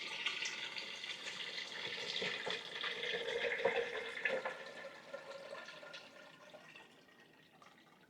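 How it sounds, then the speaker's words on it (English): Water poured from a big pitcher into the tank of a countertop UV reverse osmosis filter, a steady splashing fill that runs for several seconds and then tapers off quieter. "You just simply take a big pitcher of water and just fill it right on up."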